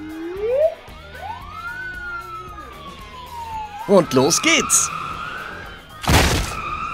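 A Playmobil toy police car's siren wails in rising and falling sweeps, loud and close, followed by short bursts of toy sound effects, with a voice speaking briefly at the start.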